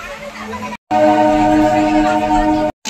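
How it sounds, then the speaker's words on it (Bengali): A train horn sounds at a railway platform during a family outing, a steady tonal blast lasting about two seconds after a short first burst, loud and near, with a brief gap between. "ট্রেন পেয়ে গেছি।"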